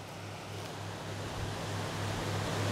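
A small waterfall with fish in its pool rushes steadily, a dense, even hiss of falling water, close and continuous, with no voices.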